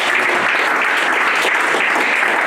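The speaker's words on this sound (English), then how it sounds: "Let us clap our hands to God for that." A church congregation claps hands during a homegroup service, a dense, continuous burst of clapping at steady loudness with no gaps.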